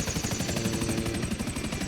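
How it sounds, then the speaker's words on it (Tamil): A helicopter in the video game GTA 5 thrums steadily with fast, even rotor pulses and a droning engine, close and continuous with no talk. "இந்த ஹெலிகாப்டர் ஒரு இடத்துல பார்க் பண்ணணும்"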